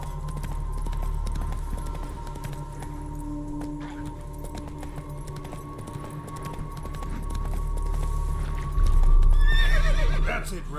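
Roach, the horse in The Witcher 3, gallops with a steady clip-clop over low game ambience and a droning hum, then whinnies loudly near the end.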